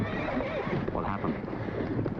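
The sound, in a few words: horse neighing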